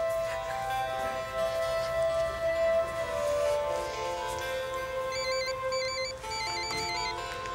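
A phone ringtone plays as a repeating electronic melody at moderate level over faint room ambience and background music, in a 2010 Russian melodrama scene.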